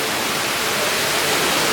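Steady, loud broadband rush of falling water from an indoor cave waterfall inside a large Bass Pro Shop store, continuous and close with no talk.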